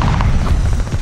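A glide bomb blast in Call of Duty: Vanguard, a loud sustained low boom rolling and rumbling through the whole moment, dense and close with no voices over it.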